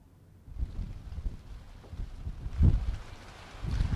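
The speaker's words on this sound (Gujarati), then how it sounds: "અમદાવાદમાં ભારે પવન સાથે વરસાદની શરૂઆત થઈ છે" Strong wind roars and buffets the microphone in gusts, with a dense wash of heavy monsoon rain falling, in Ahmedabad.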